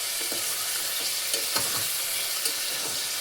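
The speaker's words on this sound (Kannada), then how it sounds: "ಸೊ ಕುಕ್ಕರ್ಗೆ ಇದನ್ನೆಲ್ಲ ಹಾಕಿ ಫ್ರೈ ಮಾಡೋಣ" Paneer matar masala ingredients fry in a pressure cooker, sizzling steadily and loudly, with occasional scraping stir strokes and soft clinks, and no talking.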